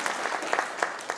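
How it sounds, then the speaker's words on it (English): An audience at a public market meeting claps for a newly introduced marketing director, a brief, fairly close patter of scattered hands with a few sharper individual claps. "I see someone clapping."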